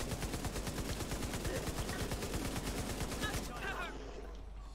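Enemy gunfire in The Division 2 rattles in a rapid, steady automatic stream, sharp repeated cracks continuing for several seconds at moderate volume before cutting off into quieter ambience.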